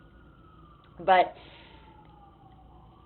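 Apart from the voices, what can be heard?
emergency vehicle sirens in New York City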